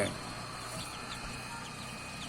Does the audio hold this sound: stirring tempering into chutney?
no